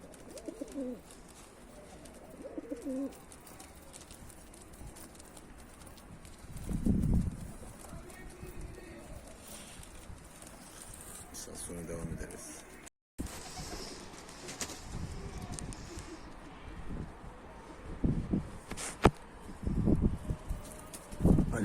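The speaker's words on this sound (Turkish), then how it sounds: "Kümesten dışarı çıkmayan kuşlar şimdi kümese girmiyorlar." Pigeons coo softly and intermittently at close range around a coop, with wing flaps and light shuffling sounds around them in an otherwise quiet setting.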